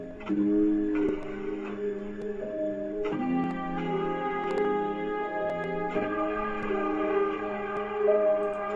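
A slowed, halftimed melodic sample drenched in a watery chorus effect drifts with a spacey, underwater wobble, sustained chords changing every few seconds, soft and alone.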